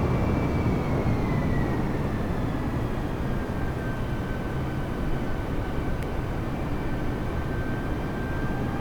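Airbus jet engines set to climb thrust in a flight simulator after departure from John Wayne Airport, a steady, loud broadband roar with a faint falling whine, unbroken throughout.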